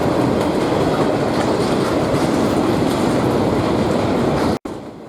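A sugar cane freight train rolls past on rails heading out to the cane fields, a loud, continuous rumble and clatter of wheels close by that cuts off abruptly near the end.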